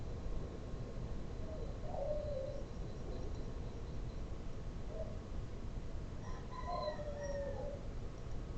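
Chickens cluck faintly in the distance over a steady background hiss, with a few short calls scattered across the stretch and a louder burst near the end.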